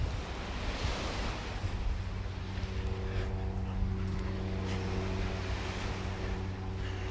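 Ocean surf washing onto a beach in North Naples, Florida, a steady, continuous roar of breaking waves with some wind noise throughout, no voices.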